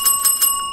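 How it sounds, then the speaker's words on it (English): Bell in the indie horror game Poop Killer VIII, rung three times in a quick, even rhythm, each bright metallic strike ringing briefly, close and clear with no talk. "Ring the bell."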